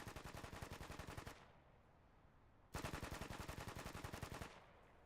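Machine gun on a training range firing two long, rapid bursts, each about one and a half seconds of tightly spaced loud shots with echoing tails, separated by a pause.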